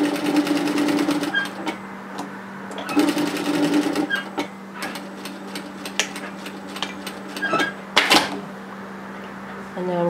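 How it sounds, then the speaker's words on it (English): Sewing machine stitching a cardigan cover seam in bursts, running steadily for a stretch, pausing, then resuming, with small clicks and handling noises close by. "And now I'm going to do my second row of stitching."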